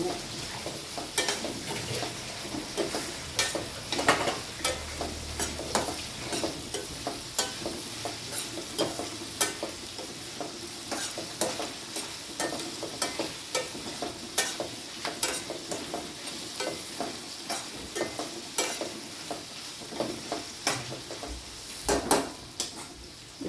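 Onions fry and sizzle in a pan while a utensil stirs them, with steady crackling broken by frequent scraping clinks against the metal, close up and without speech.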